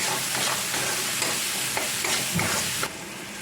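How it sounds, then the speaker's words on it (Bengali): Chili powder, turmeric, salt and a little chopped tomato sauté in a pan for a green mango and katla fish curry, giving a steady close sizzle with faint stirring scrapes throughout and no voices. "লঙ্কার গুঁড়ো এবার একটু ভালো করে কষিয়ে নেব"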